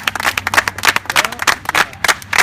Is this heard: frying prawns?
no